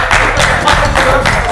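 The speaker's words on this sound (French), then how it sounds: "Attendez, on a applaudi encore une fois Anthony." Brief burst of studio applause on a football talk show, several people clapping briskly and unevenly, close and fairly loud, over a low background hum.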